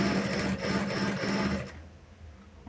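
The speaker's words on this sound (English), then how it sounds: "So the top stitching right now is close to the edge." A sewing machine top-stitches a sling bag in a steady, rapid mechanical whir for about a second and a half, then stops abruptly, leaving quiet room tone.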